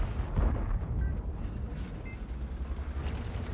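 Tank cannon shot in World of Tanks, a deep rumbling boom near the start followed by a long low rolling tail of engine and battlefield noise, no talk.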